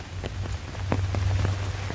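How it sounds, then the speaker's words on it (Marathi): Heavy rain pattering steadily on a farm field during a windy downpour, close and continuous with scattered sharper drop hits. "आणि पाऊस पण आज खूप पडतोय"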